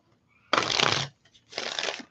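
Two brisk riffling bursts of a tarot card deck being shuffled, each about half a second long, with a brief pause between them. The sound is close and crisp.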